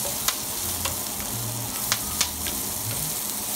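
Onions sautéing in a skillet for New Orleans style smothered liver, a loud steady sizzle with a few sharp spatula clicks against the pan, up close and without talk.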